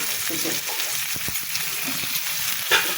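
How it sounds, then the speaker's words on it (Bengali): Onions frying lightly in oil in a pan, a steady close sizzle with a few soft scraping stirs, alone without talk, in a home kitchen cooking rohu fish with potatoes. "এবার পেঁয়াজটা হালকা করে ভেজে নিই"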